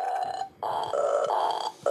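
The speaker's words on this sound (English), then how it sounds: "It's a pukey belch." A long, droning belch sound from a toy piano, sustained with a short break midway, fairly loud and close.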